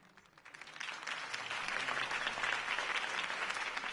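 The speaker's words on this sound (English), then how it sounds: "could have heard that applause" A crowd applauds after a campaign speech in Batman: The Telltale Series, the clapping building quickly from a quiet start into a steady, fairly faint roar that lasts a few seconds.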